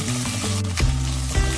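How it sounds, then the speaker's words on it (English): Shrimp heads frying in two tablespoons of hot oil give a steady close sizzle, with a couple of brief louder crackles partway through, no voices. "Let's fry the shrimp head first."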